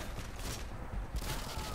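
A rapid burst of gunshots from pistols in Modern Warfare Spec Ops on Xbox One, sharp cracks in quick succession, quiet and fairly distant.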